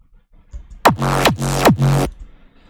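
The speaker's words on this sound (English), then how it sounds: "And the last bar of this 4-bar loop has a FX kicks," Hardstyle FX kicks in the final bar of a four-bar loop: three heavy, distorted kicks with downward pitch sweeps, each sustained and booming, punchy and close with no voices.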